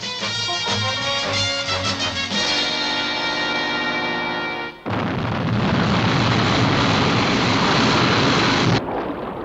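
A 1970 TV-series aircraft lifting off, a rising tonal engine whine with shifting harmonics that cuts abruptly into a loud, dense roaring rush of jet noise, sustained and close before stopping suddenly.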